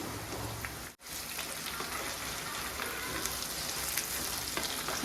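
Chicken pieces coated in chili powder frying steadily in hot oil, a loud, continuous sizzle with faint stirring, broken by one brief dropout near the start.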